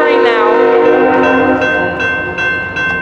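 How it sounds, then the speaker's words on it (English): A CSX mixed freight train sounds its horn loud and close, the sustained blasts dropping in pitch as it passes, with rumbling wheels beneath and several short horn bursts near the end. "here comes the train now."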